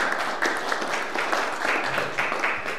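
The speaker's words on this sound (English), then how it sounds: "please give Stuart a clap." An audience claps for Stuart at a town hall event on sport and criminal justice, a steady patter of moderate applause from a modest crowd throughout.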